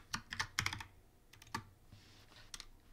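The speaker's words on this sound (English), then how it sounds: "you can also manually type in an email address" Computer keyboard keys clatter in short, irregular bursts as an email address is typed into a booking plugin setup, close and fairly quiet, with no one speaking.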